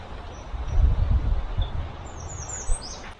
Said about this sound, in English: I think the phoebe birds are getting used to me.